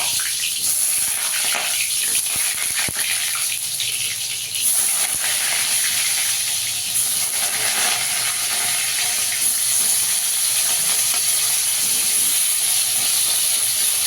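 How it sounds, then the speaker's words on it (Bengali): Pointed gourd (potol) pieces frying in hot oil in a wok, giving a steady, loud sizzling hiss that runs unbroken from start to finish, close up, with no talking. "কড়াইতে তেল দিয়ে দিয়েছি, আর পটলগুলোকে একটু ভেজে নেবো, একটু লাল করে ভেজে নিতে হবে।"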